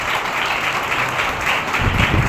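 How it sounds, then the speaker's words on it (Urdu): A congregation at a Thursday healing meeting bursts into loud, sustained applause, a dense wash of many hands clapping together without a break. "یسوع کے لیے زوردار تالیاں"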